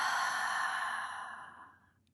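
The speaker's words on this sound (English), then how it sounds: "take a deep breath, and then just open your mouth and exhale" A single long breath pushed out through an open mouth during a mindful breathing exercise, a soft airy sigh that fades away over about two seconds, close and alone.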